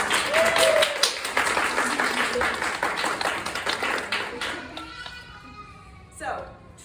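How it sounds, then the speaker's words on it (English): Audience applause at a community talk about a local bread baker, a dense burst of clapping that fades out over several seconds, with a few voices at the end. "If you could give her a big round of applause."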